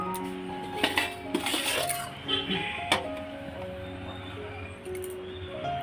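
Lids and dishes clink and clatter in a home kitchen as dishes of food, including a sour fish curry, are covered, with several scattered metallic knocks over a steady background hum, and a voice talking at times.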